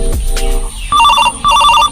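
A mobile phone ringtone plays a short electronic melody, loud and close, in two repeated bursts after a brief thud, with no talk over it.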